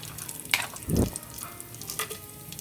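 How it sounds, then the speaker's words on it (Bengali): Cumin, bay leaf and whole garam masala spices crackle in hot oil inside a pressure cooker, with a brief sharp pop, a low muffled thump and a faint splashy hiss. "কুকার বসিয়ে তাতে তেল গরম করে জিরে ফোড়ন দিয়েছে, তার সাথে তেজপাতা আর গোটা গরম মশলা"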